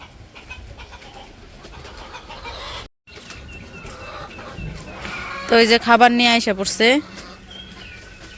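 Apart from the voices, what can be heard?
chickens clucking at the chicken coop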